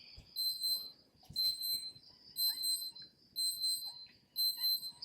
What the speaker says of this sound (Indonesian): Oh, jam saya bunyi guys.